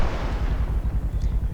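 Heavy weapon fire in the video game BSF, a dense low booming rumble with rapid repeated thumps filling the short span.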